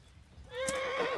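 A horse in the medieval game Kingdom Come: Deliverance lets out a clear rising whinny with a few hoof clops, short and fairly close, with no voices over it.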